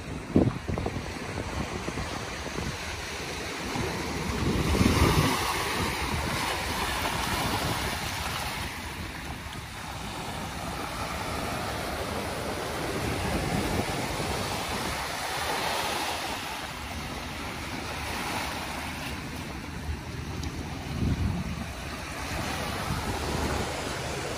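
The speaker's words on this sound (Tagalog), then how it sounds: "Sumusugod yung yung malakas na alon" Strong storm-driven waves surge onto the Manila Bay shore along the dolomite beach, a continuous roaring wash with recurring swells under gusty wind buffeting the microphone.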